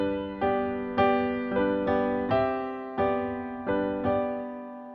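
A piano plays a repeated sequence of struck chords, about eight in all. With the sustain pedal held, the G and the harmonics above it ring on between strikes, and each chord decays slowly. It is played alone, with no voices.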